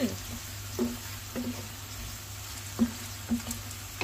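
Minced meat fries in oil with softened chopped onions for eggplant moussaka, a constant hiss of sizzling broken by irregular clanks and scrapes of stirring.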